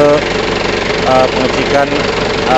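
A car engine runs at a steady idle with the bonnet open while the alternator charging is tested, a close, constant mid-pitched hum with a voice talking over it.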